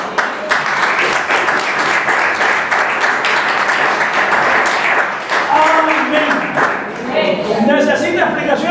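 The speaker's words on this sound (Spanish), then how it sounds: "dale fuerte aplauso" A church congregation bursts into loud, sustained applause up close, the dense clapping filling the space while voices call out over it before the clapping fades.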